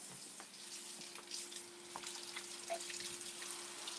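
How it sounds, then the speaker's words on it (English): Vegetables for gluten-free ramen get a quick rinse under a running kitchen tap, giving a steady, close hiss of flowing water with faint splashes throughout, and no talking. "just a quick rinse."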